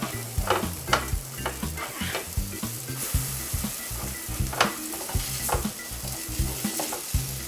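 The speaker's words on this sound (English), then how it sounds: "Pretty sure all these pancakes are ready to be flipped now, so let's flip them all." Sour cream pancakes fry in butter with a bright, continuous sizzle, interrupted by a series of quick spatula scrapes and soft knocks as each one is flipped, close and clear with no talking.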